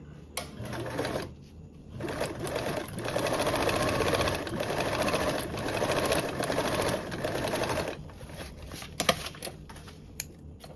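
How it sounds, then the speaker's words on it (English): A sewing machine basts along the bottom edge of a fabric mesh toiletry bag, its rapid mechanical stitching running in bursts of a few seconds, with short pauses and faint clicks between runs. "now I just need to baste along my bottom edge"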